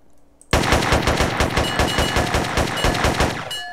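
Rapid automatic gunfire from a GTA San Andreas multiplayer match, a long loud sustained burst of evenly spaced shots starting abruptly after a brief quiet moment, with no talking.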